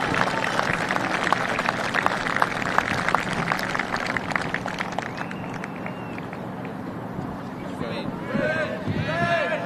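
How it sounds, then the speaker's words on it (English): Spectators at a men's Indian hockey championship match in New Zealand give a round of applause. The claps sound fairly distant, and a voice on a loudspeaker soon talks over them. "Give them a round of applause."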